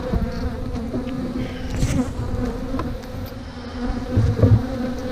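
A swarm of honey bees buzzes loudly and continuously around an opened hive colony, with a dense, close hum that swells and fades slightly as individual bees fly near.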